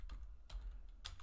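Keys clatter in three quick bursts of typing on a computer keyboard while a word is entered, each cluster of clicks sharp and close with short pauses between, no talking.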